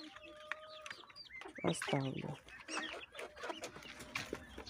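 Chickens and young roosters cluck and squawk in a coop, with several overlapping calls close by and a person speaking briefly among them.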